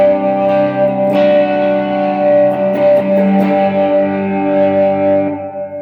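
Distorted electric guitar chords played through a Digitech Polara reverb pedal ring out through a wash of reverb, sustaining and slowly decaying, loud and close with no talking.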